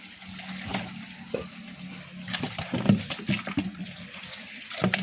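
Water runs and splashes steadily down into a pit beside a field channel, with irregular gurgles and small thumps over a constant low rushing flow.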